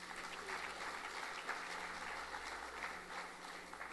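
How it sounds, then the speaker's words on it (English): An audience at the ICTFEST 2012 opening ceremony applauding, a dense, steady patter of clapping hands sustained for several seconds, fairly quiet and distant, with no talk over it. "I think you deserve a round of applause"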